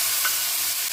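Dry red chillies, cumin seeds and bay leaves hit hot oil for a jackfruit curry, giving a brief, even, bright sizzle heard up close and alone.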